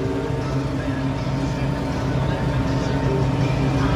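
A tractor engine drones steadily and loudly up close while working the levees of a crawfish pond, a continuous rumble with no break.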